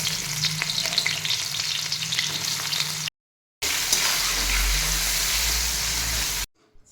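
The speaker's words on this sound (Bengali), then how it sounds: "চিকেনের জন্য কড়ার মধ্যে দিয়ে দিয়েছি তেল পেঁয়াজ" Onions sizzle in hot oil in a kadai for a chicken dish, a loud, steady frying hiss with stirring, broken by a brief silent gap.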